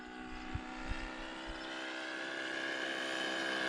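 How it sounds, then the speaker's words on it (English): A 28-year-old scale Piper J-3 Cub RC model airplane flies overhead, its steady engine drone building in strength with a few low thumps near the start, heard alone with no talk. "It's full throttle on the climb out. About half throttle now."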